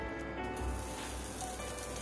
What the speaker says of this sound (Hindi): बटर में हम थोड़ी सी आलू टिक्की को भी फ्राई कर लेंगे।